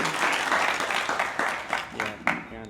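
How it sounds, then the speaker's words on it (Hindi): An audience welcomes someone speaker with applause at a gathering: a broad clapping wash with sharper individual claps standing out, ending with a few loud isolated claps, while voices murmur underneath. "एक बार जोरदार तालियों से भाविनी ताई का स्वागत करेंगे।"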